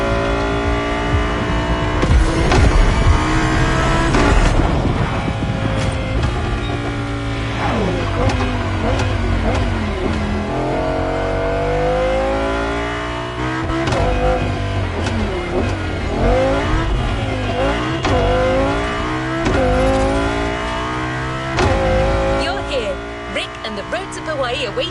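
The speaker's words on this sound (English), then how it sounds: "Partner with quite the celebrity, a Ferrari 308 GTS." A Ferrari 308 GTS engine in the racing game The Crew Motorfest, set in Hawaii, revving loud and close with repeated rising and falling sweeps through the gears. A voice talks over part of it.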